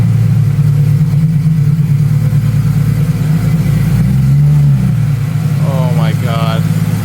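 Porsche 911 GT3 RS Weissach fitted with a Dundon exhaust and crack pipe, its engine droning loud and steady with a brief swell in pitch midway, and a voice speaking briefly near the end.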